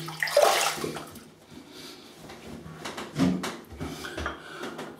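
Water runs and splashes briefly as something is rinsed off under a tap, with soft clatter and handling noises around it, fairly quiet and close.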